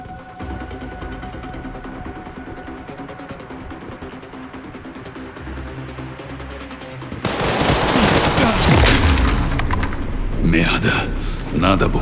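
A bomb explosion in Resident Evil Requiem erupts as a loud, roaring blast after steady machinery hum, followed by rumbling debris and sustained crackling gunfire against elite soldiers.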